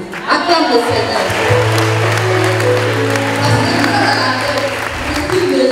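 A church congregation at a Sunday service applauds with a steady patter of clapping over several seconds, while a voice speaks and sings over it.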